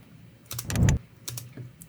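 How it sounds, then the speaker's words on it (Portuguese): A soft click followed by a short whoosh, used as a transition sound effect for video editing, heard alone and fairly faint, with a brief swell of noise then a lighter click-like tail. "tem um cliquezinho, não sei se dá pra escutar, um cliquezinho de leve e um whoosh"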